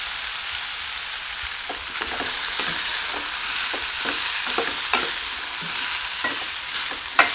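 Moong dal, plantain and grated coconut stir-fried together in a pan, with a steady close hiss broken by a string of scraping spoon strokes as the mix is stirred, and no voices.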